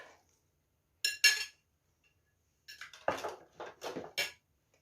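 Chopped onion tipped into a pot of oil for a Bukovinian meat filling: clinks and scrapes of a dish and utensil, then a cluster of knocks and rustling pours, close and otherwise quiet.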